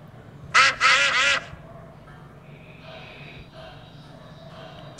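Mrs. Duck from a Peppa Pig video game gives three loud, closely spaced quacks early on, followed by faint background game sounds.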